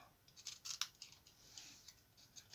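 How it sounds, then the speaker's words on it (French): Small scissors snip the edges of a paper embellishment in a quick series of faint, crisp cuts close by, irregularly spaced in a quiet room. "Je coupe les bords."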